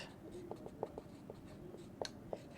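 Chalk or marker strokes on a classroom board during a Bangla-to-English translation lesson: a series of short, scratchy taps and squeaks in an uneven rhythm, close and fairly quiet over a soft room hum.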